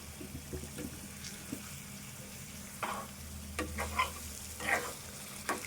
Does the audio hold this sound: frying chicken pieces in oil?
yes